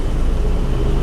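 Engine brake on a 40-foot bus roars as a steady, loud, low rumble, close up and continuous through the short stretch with no talking.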